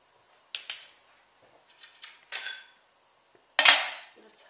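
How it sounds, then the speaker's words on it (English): A metal steamer set on top of a pan of seafood couscous, giving a few sharp metallic clinks and clatters spaced over a few seconds, close and fairly loud against quiet. "I'm gonna put my steamer on the top of the pan again to"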